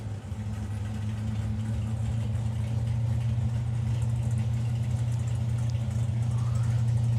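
A Super Comp two-door drag racing car idles with a steady, deep low rumble and a mid-range engine drone, loud and continuous throughout with no pauses.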